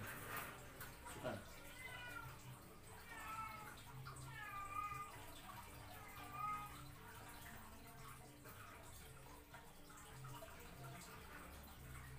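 A wild cat kitten meows several times in a row, each cry rising and falling, fairly close over a steady noisy background.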